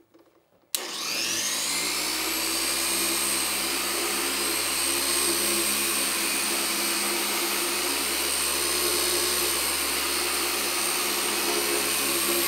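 A Griot's dual-action polisher buffs a repainted spoiler on a 2009 Hyundai Sonata at a slow speed setting, switching on after a brief quiet moment and then holding a loud, steady whir with constant hum right to the end.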